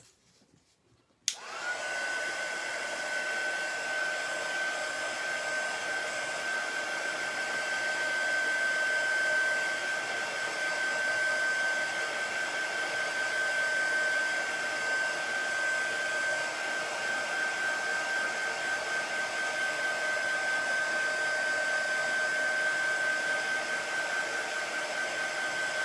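A handheld heat tool dries chalk paste on a craft project, switching on after a brief quiet moment and then blowing with a steady, even whir for the rest of the time.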